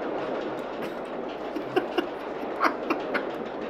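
A test train runs along its track in a video game, a steady mechanical hum with a string of light rhythmic clicks and clacks toward the end, fairly close and without voices.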